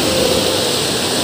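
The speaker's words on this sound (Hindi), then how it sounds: "और ये धारा, और ये धारा इस प्रकार से प्रवाहित हो रही है" Water rushing steadily under a bridge at Trimbakeshwar, spilling down like a small waterfall, a continuous loud broadband roar close by with no pauses.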